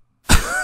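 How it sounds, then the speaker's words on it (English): A single throat clearing bursts in after a short silence, loud and close, with a rough, cough-like onset that tails off into a breathy rasp. "Clear my throat."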